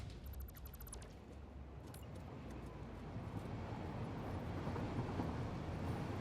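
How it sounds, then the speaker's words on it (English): A train in the video game Satisfactory runs with a steady, broad rumble that swells slightly louder over time, with faint high clicking tones at the start. "Oh, don't worry about the train."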